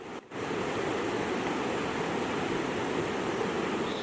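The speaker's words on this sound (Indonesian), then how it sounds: "Air sungai yang berarus deras itu meluap dan merusak permukiman" A swollen, flooding river rushes with a loud, steady roar of turbulent water, continuous and close, with a brief dip in sound at the very start and no voices.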